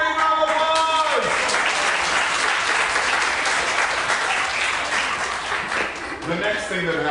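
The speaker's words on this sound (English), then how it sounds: "Let's give her a very big round of applause." A library summer reading kickoff audience breaks into loud, sustained applause, dense clapping filling the room, with some tonal sounds and a voice near the start and end.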